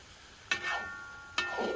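Lamb tail meat searing in its own fat, two sudden sizzling bursts that fade into a quieter crackle, fairly faint and close.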